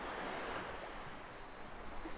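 Waves wash steadily onto the beach at Xylosirti on Ikaria in Greece, a soft continuous surf roar mixed with light wind noise on the microphone and no talking.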